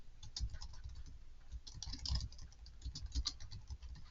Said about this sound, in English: I know you can hear my keyboard typing